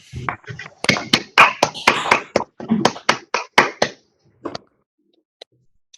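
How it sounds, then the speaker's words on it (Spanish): A few people clap sharply and irregularly for about four seconds, close and loud, trailing off into a couple of final claps. "Un aplauso para Miguel Ángel, por favor."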